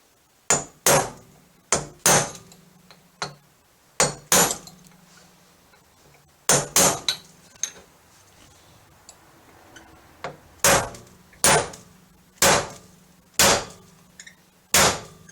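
Sharp hammer blows on a metal pin ring out in uneven clusters of two or three strikes, loud and close, with short pauses between bursts, during a popup camper lift repair.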